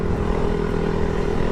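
A Honda Grom motorcycle fitted with a third-party exhaust idles nearby in a steady, loud, low engine drone with an even throb.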